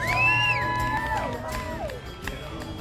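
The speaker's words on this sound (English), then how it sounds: "Give yourselves a round of applause." Crowd at a coffee shop raffle fundraiser cheering, whooping and shouting for nearly three seconds, loud and close, with rising whistle-like whoops over a dense bed of voices.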